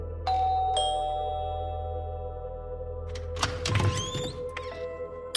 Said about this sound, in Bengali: আবার বেজে উঠেছিল কলিং বেলটা